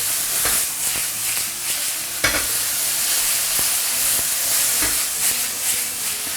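Chopped tomatoes with garlic and shallot in oil fry in a wok over the highest flame, a constant loud hiss punctuated by sharp, irregular spatula scrapes and clacks.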